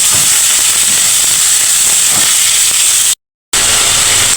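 Ground pork sizzles loudly in a hot pan, a dense, steady hiss close by that cuts out for a moment before resuming.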